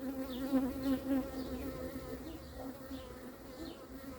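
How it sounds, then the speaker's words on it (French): A steady, close droning hum of ten to fifteen honeybees circling during the capture of a swarm, buzzing continuously, with small swells in loudness as individual insects pass near. "il y a une dizaine, quinzaine d'abeilles qui tournent autour"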